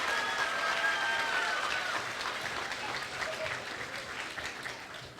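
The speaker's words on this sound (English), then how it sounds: "Let's give her a round of applause." At an elementary school talent show, a large crowd gives a steady, dense round of applause with a faint whistle-like tone early on, holding at an even level throughout.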